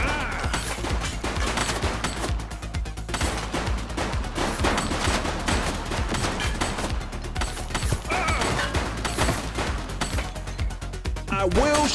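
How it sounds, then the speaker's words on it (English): Rapid gunfire in a police shooter video game, bursts of sharp automatic shots crackling almost nonstop over a low synth score, with voices shouting between the volleys. "She's shooting!"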